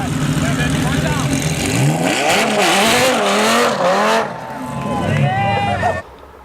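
A Lamborghini engine with a full titanium exhaust system revs hard with a raspy, metallic exhaust note, climbing and dropping in pitch, then cutting off abruptly at the end.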